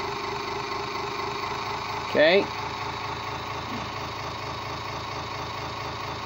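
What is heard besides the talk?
engine idling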